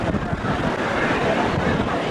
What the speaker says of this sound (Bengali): এই চলে এলাম আমরা কালাপাথর বিচে